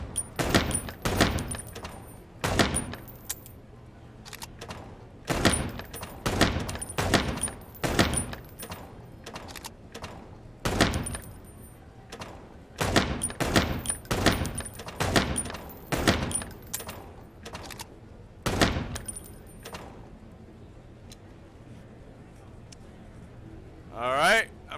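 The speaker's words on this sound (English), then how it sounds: "There's a small delay after you reload before you can actually shoot." Repeated gunshots in the noir video game Chicken Police, fired in bursts of single sharp cracks with short pauses between, loud and close, with brief gaps that fit reloading.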